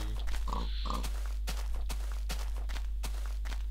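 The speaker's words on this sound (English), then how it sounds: "It's got some pigs." Pigs grunting and oinking in Minecraft, several short snorts in quick succession with footstep-like taps spaced evenly through the rest, over a constant low game hum.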